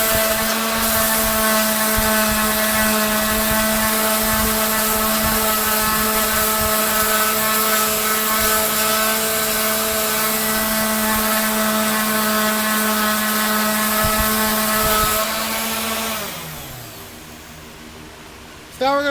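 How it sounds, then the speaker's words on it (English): An electric hand sander works on a 1926 DL&W steel rail during restoration, a loud steady high-pitched whine with a buzzing rasp for about fifteen seconds, then winding down and stopping. "Here's the hand sander."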